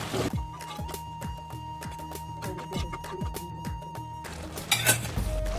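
A spoon scrapes and clinks against a pan while stirring spice powder into frying food, with repeated metallic strokes over a low sizzle.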